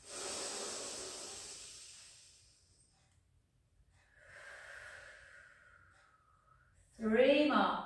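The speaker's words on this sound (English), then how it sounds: "Take some deep breaths in. And out." Deep slow breaths drawn in and let out while holding a pilates position, a long airy exhale followed by a fainter inhale and a sharper, louder breath at the end, close and alone.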